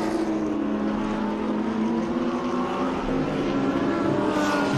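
Porsche and Lamborghini race cars howl past on a racing circuit, a loud sustained engine roar with a steady droning pitch, filling the whole stretch with no break.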